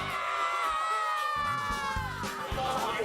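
Sheridan Generals fans cheering and whooping at a high school football game against Maysville, a loud, continuous crowd roar with screams and shouts rising and falling, with some voices close by.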